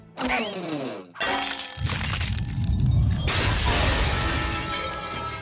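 A cartoon glass castle shatters loudly, a bright crash followed by a long, dense cascade of tinkling and falling shards that keeps going for several seconds.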